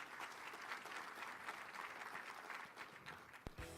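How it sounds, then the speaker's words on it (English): An audience at the Rock Island state of the city address applauds the police force, a steady wash of many hands clapping that carries on throughout before a sharp knock near the end. "Give the police force a round of applause"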